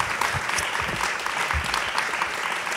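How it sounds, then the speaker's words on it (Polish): An audience at the end of a philosophy lecture applauds with sustained, dense clapping that fills the hall evenly, with no speech over it. "Ogromne brawa dla państwa przede wszystkim"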